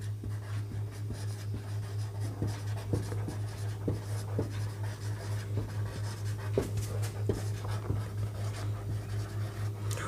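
A teacher writes a definition for a physics lesson on Newton's laws, producing quiet scratchy strokes and taps at a steady pace over a low constant hum, with no talking.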